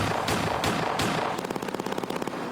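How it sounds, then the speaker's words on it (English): Gunshot sound effect played on a podcast: three heavy single shots followed by a fast, evenly spaced burst of automatic fire, loud and alone. "Give me those ether gunshots one more time"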